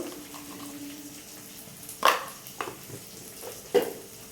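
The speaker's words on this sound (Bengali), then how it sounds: "এই মশলাটা ভালো করে ভেজে তোমাদেরকে দেখাবো" Ground spices with salt, turmeric and green chilli paste fry in a pan while being stirred for a chana dal dish, a faint hiss broken by three sharp spatula scrapes.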